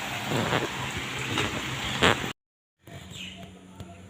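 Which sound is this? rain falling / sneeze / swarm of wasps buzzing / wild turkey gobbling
rain falling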